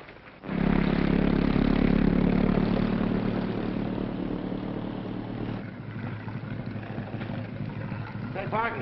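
Motor launch engine kicking in with a sudden loud start, then running steadily with a throbbing mid-pitched drone that eases slightly in the second half.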